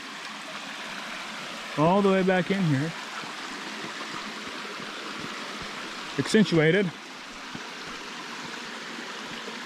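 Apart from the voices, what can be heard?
stream flowing over small waterfalls and rapids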